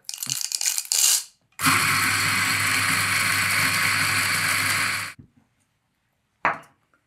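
A Eureka Mignon Specialita coffee grinder with a single-dose bellows attachment, grinding espresso for a flat white: clicks and a brief whir, then a loud steady motor grind of about three and a half seconds, and a final short puff.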